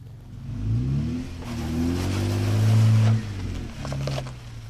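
Lifted Jeep with new suspension crawling up an off-road hill in first gear: a steady low engine drone that swells and labours as it climbs, close by, then eases off, with no talking.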